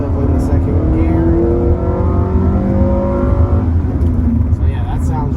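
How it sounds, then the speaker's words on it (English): Honda Prelude Si 4WS, fourth generation, revving up in second gear from inside the car, a loud rising engine whine climbing steadily in pitch, then easing off with road noise underneath. "Try to rev it out a little bit."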